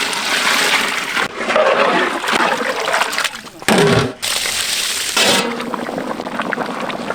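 Water splashes and gushes loudly into a pot of cooked masala and duck for biryani in long continuous pours, broken by brief pauses, close up and with no talking.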